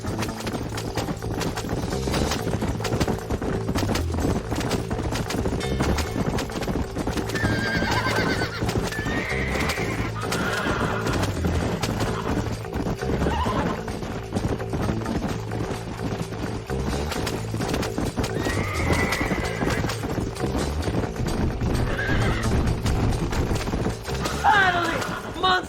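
Horses in the Red Dead Redemption video game gallop with steady clip-clop hoofbeats and whinny over a dense, continuous bed of game music and ambience, with voices talking at times throughout.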